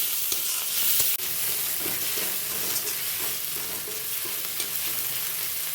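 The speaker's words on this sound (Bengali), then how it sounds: "চিংড়ি মাছ হালকা নেড়ে চেড়ে ভেজে নেওয়া হচ্ছে।" Shrimp are stirred and fried in a kadai for fried rice, a constant sizzle broken by light scraping and clinks from the stirring utensil, heard up close.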